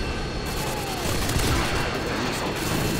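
A Predator missile strike in Modern Warfare 2 multiplayer, heard as a roaring, sustained rumble of explosion and gunfire noise that swells slightly midway and stays loud for about three seconds.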